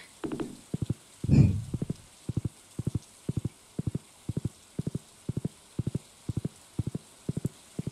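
Horse hooves clip-clopping in the Stardew Valley video game, a steady repeating gallop rhythm of clustered hoofbeats, fairly close and clear, with a soft whoosh early on and light rain in the background.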